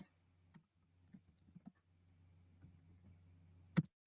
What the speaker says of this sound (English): And I am typing in Lou's name